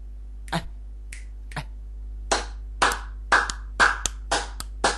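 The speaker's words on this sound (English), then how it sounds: "I was just clapping for no apparent reason." Sharp percussive hand sounds: a few isolated snaps or claps, then a quicker run of about six sharp, close claps, each standing alone over a low steady hum.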